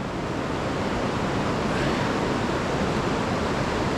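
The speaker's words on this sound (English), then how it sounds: "I'm at the Cucumber Rapids boulder field." River rapids rush through the Cucumber Rapids boulder field in Ohiopyle State Park, a steady, broadband roar of moving water with no breaks, moderately loud and even throughout.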